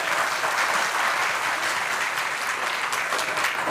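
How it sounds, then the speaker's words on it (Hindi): Audience applauding at a crowded religious darbar gathering, a dense steady wash of many hands clapping at once for the whole stretch, fairly close and loud with no voices over it. "यदि आनंद आया तो ताली बजाए।"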